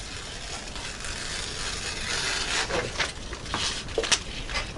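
A T15 steel knife slices finely through bamboo with repeated close scraping and rasping cuts, a rough, gritty texture with small irregular clicks and no talking.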